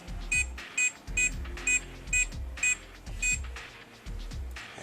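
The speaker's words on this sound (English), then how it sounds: "Now it only beeped once, indicating that you need to enter that combo one more time." Eight short, evenly spaced electronic beeps from a SecuRam SR1 (ECSL-0601A) electronic safe keypad, each a bright high-pitched tone standing out clearly above a low background hum.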